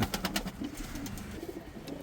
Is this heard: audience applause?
no